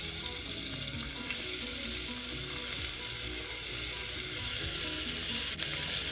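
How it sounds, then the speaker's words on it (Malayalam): Garlic and onion sizzle steadily in hot oil for a spicy chutney, a dense, continuous frying hiss that holds at an even level without pause. "ആ ചൂടായ എണ്ണയ്ക്ക് ആ ഗാർലിക്ക് ഞാൻ ഇട്ടിട്ടുണ്ട്."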